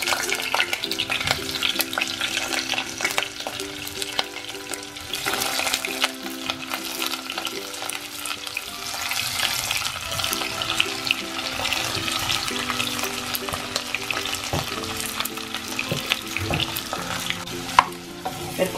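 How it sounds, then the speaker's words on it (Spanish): Cauliflower browning in oil in a small pot, a continuous close sizzle with stirring scrapes and faint background music, no voice. "Aquí tengo una ollita, aquí voy a guisar el coliflor. Lo voy a dorar con aceite."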